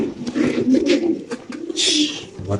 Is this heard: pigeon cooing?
yes